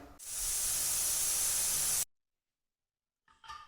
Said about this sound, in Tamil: Cooker whistle அடங்கிடுச்சு.